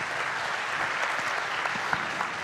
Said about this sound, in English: Please give a warm round of applause to Andrew Bonici.